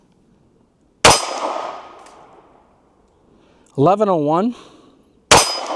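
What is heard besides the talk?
380 pistol bullets hitting steel target downrange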